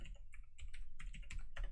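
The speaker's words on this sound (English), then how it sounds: "Oh, because I'm typing." Quick, irregular key presses on a computer keyboard, close and fairly quiet, in short bursts with no talking.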